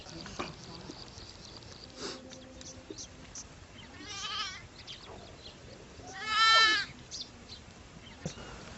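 A goat bleats, near and fairly loud, in a couple of wavering calls with a strong final bleat, over a rural outdoor background with faint voices in a Haryanvi comedy drama.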